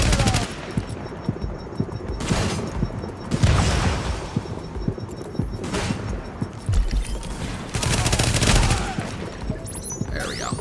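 SMG fire from The Division rattles out in several rapid bursts separated by short pauses, loud and close, with someone talking in between.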